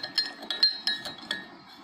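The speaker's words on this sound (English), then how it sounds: "I am stirring the sherbet." A spoon stirring sherbet in a glass, producing a run of about eight light, ringing clinks at a quick, even rhythm, close and alone.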